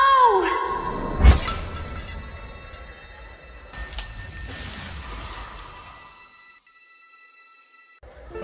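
A sword shattering in an animated fantasy scene: one sharp, loud crack and burst of breaking metal, followed by a ringing, shimmering decay that fades to near silence.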